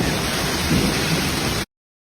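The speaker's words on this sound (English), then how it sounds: "it was a big storm, but it was short and sharp, 30 minutes. Heavy rain." A short, heavy storm pours down with dense hail and rain, producing a loud, steady roar of rain with a low thunder rumble before it cuts off abruptly.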